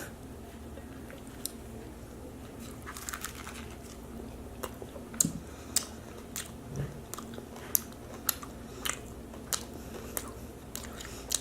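A low-carb breakfast taco is chewed close up, with soft, irregular crunchy bites and squishy mouth sounds scattered over a quiet room background.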